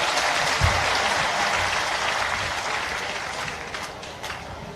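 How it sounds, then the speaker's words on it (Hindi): A crowd at a political rally applauds to welcome a politician, a dense and steady wash of clapping that gradually thins toward the end, with scattered sharper claps standing out. "जरा तालियां दोनों हाथ ऊपर उठा के ताली बजा के स्वागत कीजिए"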